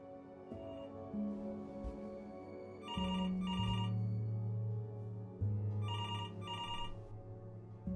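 In the video game Before Your Eyes, an old-style telephone bell rings in two double-ring bursts over a low sustained musical drone.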